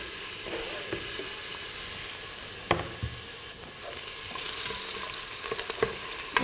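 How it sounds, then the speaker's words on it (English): Onions sizzle steadily in a hot pan as the base of a tomato sauce, a continuous close frying hiss broken by a few sharp spatula taps and stirring clicks, with no voices. "So what we can now do is add our onions."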